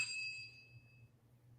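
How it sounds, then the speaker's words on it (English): A small bell dings in a paranormal investigation, a few bright, quick rings at the start that fade out within a second, leaving only a low hum. The room is quiet and the sound is faint overall. "So you hear the 3 dings right after, exactly again to her voice, ding, ding, ding."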